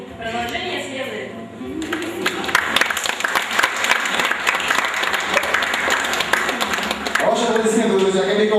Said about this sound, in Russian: Ваши аплодисменты, друзья, Кобякова Марина и Егор.